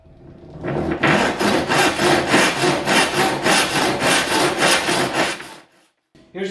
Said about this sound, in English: Dare I use a handsaw to cut this?